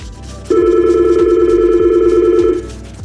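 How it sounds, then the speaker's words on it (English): A telephone in a tattoo studio sounds one loud, steady electronic ring lasting about two seconds, with faint rhythmic thumps underneath. "I hear my phone ringing in the background."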